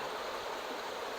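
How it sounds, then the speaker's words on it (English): A creek at the Granite Creek ghost town in British Columbia flows in a steady, close, continuous rush of water with no voices. "Beautiful creek."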